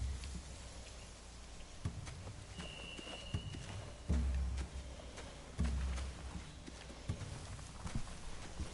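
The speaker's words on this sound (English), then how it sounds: "They have horses." Hooves clip-clop at a walking pace amid a soft rain-like hiss, with a few heavier thuds scattered through, from horses in a The Walking Dead video game.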